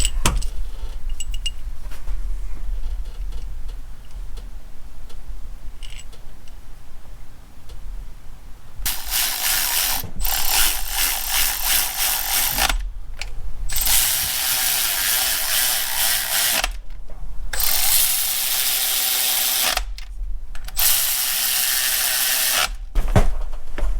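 A wrench tightens engine bolts during a lifter replacement on a 2007 Chevrolet Silverado. Loud, close mechanical bursts repeat in a steady series, separated by brief pauses.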